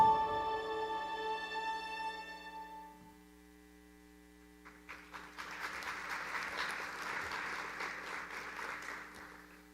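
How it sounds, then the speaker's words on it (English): Applause from the audience at a Riverside County State of the Third District address, starting after a fading musical tone and a brief lull, then building into steady, moderately loud clapping over a low electrical hum. "Thank you for that applause."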